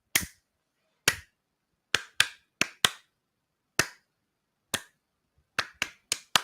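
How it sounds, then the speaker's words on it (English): Sharp hand claps ring out alone in an uneven rhythmic pattern, about a dozen crisp hits with quick bursts toward the end. "when I make music by clapping my hands like this"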